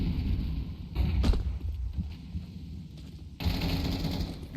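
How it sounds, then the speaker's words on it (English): A Counter-Strike match plays out with a spray of rapid automatic gunfire, bursts of rattling shots over a low rumbling background, then a sharper, louder stretch of fire near the end. "Recon sprays perfectly onto Nero, leaving Blabster in a 1v4"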